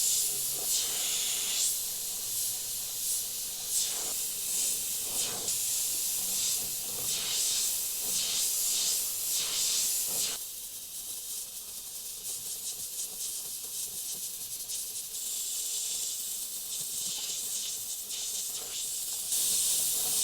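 Airbrush spraying paint onto a design, a continuous bright hiss with short pulsing bursts as the trigger is worked, dropping to a softer steady hiss partway through, close up and with no talking.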